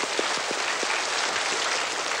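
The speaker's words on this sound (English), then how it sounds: "everybody who sang, a big clap" An audience claps steadily after school carol singing, a dense, even wash of applause heard from some distance in a hall, continuing throughout with a few faint voices mixed in.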